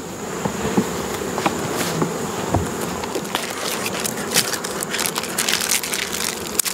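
Honeybees at a hive being fed a pollen patty and a bucket of sugar syrup, a loud, dense buzzing swarm close by with small knocks and handling sounds mixed in, and no one speaking.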